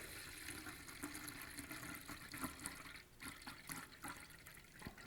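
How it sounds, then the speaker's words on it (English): Liquid poured off harvested yeast into a jug, a faint continuous trickling and splashing pour running steadily throughout with small gurgles, no talk. "I'm going to eliminate some of that liquid by decanting it into my jug container."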